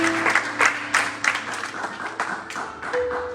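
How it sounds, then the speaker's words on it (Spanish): A church congregation applauds the Lord during a sermon, a fairly close patter of clapping with a few sharper strong claps, a held tone underneath and a quieter tail. "Ayúdale al cielo a darle un aplauso al Señor"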